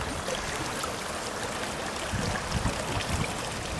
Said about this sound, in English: it's just quite a manageable water flow going down to the Four Seasons culvert